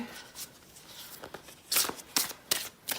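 Tarot cards being shuffled, soft riffling and slapping bursts that grow louder toward the end, close and quiet, with no voices.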